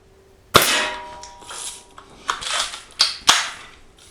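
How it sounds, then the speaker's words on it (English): A Crosman Marlin Cowboy BB rifle fires outdoors in several sharp, close cracks, about four or five shots spaced irregularly, each followed by a brief ringing decay and the clatter of cocking. "Okay, so let's get a few shots on target here."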